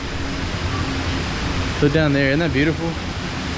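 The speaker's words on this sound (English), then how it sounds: "Little cascading waterfalls." Small cascading waterfalls on the San Antonio Riverwalk, a steady broadband rush of falling water close by, with a person speaking over it partway through.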